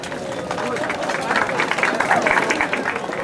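A crowd applauds the surströmming tasters at a fermented herring tasting event in Kallax, Luleå, with steady clapping blended into a murmur of voices for a few seconds.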